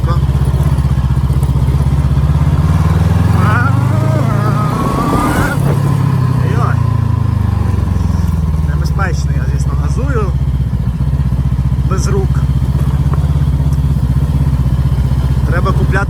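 A Voge 500DS motorcycle cruising in second gear with cruise control engaged, its steady engine drone loud and continuous throughout, with a slight swell midway, while someone talks over it.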